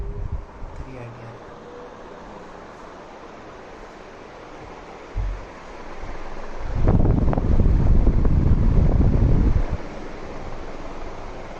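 A Crompton Jura Prime anti-dust 48-inch (1200 mm) ceiling fan spins at full speed, around 380 RPM, giving a steady broadband whoosh of moving air that swells noticeably louder partway through, then eases back.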